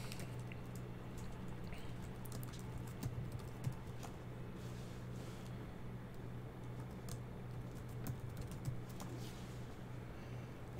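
Keys on a computer keyboard are tapped in short scattered bursts during a Fedora 33 MATE desktop login, faint and close, over a steady low hum with no talk.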